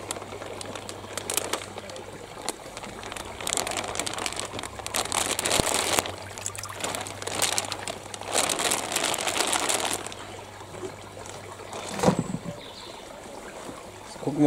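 A plastic bag is handled while a Goshiki koi from the Koda Koi Farm is let out into the water, giving bursts of crinkling and rustling with some watery sloshing. A voice is heard now and then.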